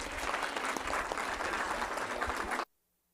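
An audience at a school board meeting gives a burst of steady, dense applause for a few seconds, then it stops abruptly into silence.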